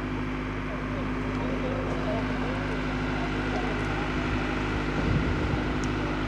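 A loud Eicher tractor diesel engine drones steadily close by as it drives off, its low rumble constant with a slight surge partway through.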